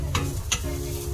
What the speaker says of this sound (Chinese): 现在给我再煎那个泡菜饼